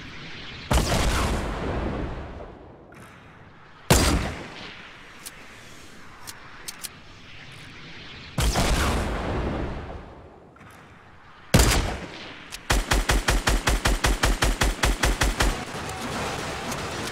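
Rockets slam into a shopping cart in a PC shooter game: four loud, separate explosions spaced a few seconds apart, each decaying into rumble, followed by a rapid rattling burst of automatic gunfire near the end.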